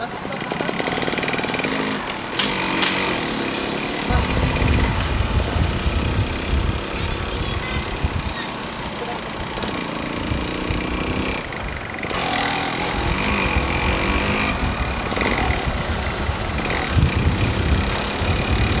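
A 1982 Yamaha L2 Super motorcycle engine runs steadily and loudly throughout, a continuous rough two-stroke-style drone with some mechanical clatter, while a voice speaks over it.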